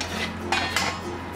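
A pot of jackfruit seed fish curry is uncovered and stirred, with two clear metallic clinks of lid and spoon against the pot over a low steady hum.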